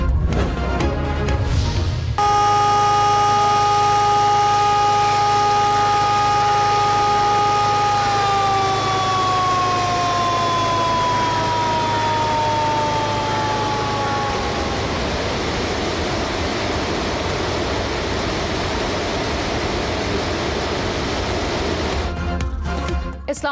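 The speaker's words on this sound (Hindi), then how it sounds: "इस्लामाबाद में रावल डैम के स्पिलवेज एक बार फिर खोल दिए गए। सायरन बज गए।" Warning sirens wail near the opened Rawal Dam spillways in Islamabad during heavy monsoon rains, a loud sustained tone that slowly falls in pitch over a constant low rumble, running for over twenty seconds.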